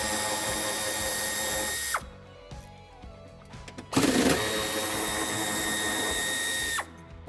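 Power tool whirring in bursts while backing out 10 mm screws from plastic tailgate entry trim on a 2019-2023 Toyota C-HR facelift, two long close runs separated by a short quiet gap with clicks and handling noise.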